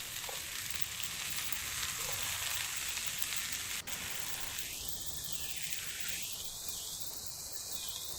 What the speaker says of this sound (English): Add in the celery and mix everything together.